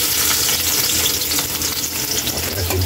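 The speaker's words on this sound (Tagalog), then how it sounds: "Gigisa na natin yung bawang." Garlic sautés in a pan for a tilapia puchero, a dense and continuous close sizzle with faint stirring scrapes underneath, no talking.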